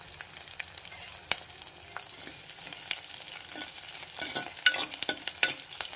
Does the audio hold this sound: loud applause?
no